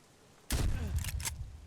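A single loud MP133 shotgun blast loaded with buckshot in Escape From Tarkov, a sharp boom after brief quiet, followed by a rumbling tail and a faint mechanical click.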